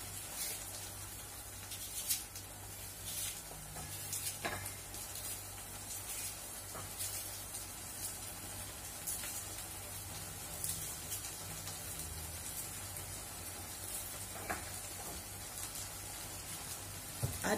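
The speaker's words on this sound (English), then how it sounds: "Add onion, then we fry together." Onion frying in a pan while gizzard and dodo are cooked, giving a steady, close sizzle and crackle throughout with a few faint scrapes and clicks.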